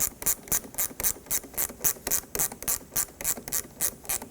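A ratchet tightens the battery terminal on a Pontiac G6, giving about fifteen sharp, close, even clicks in a steady rhythm with no talk.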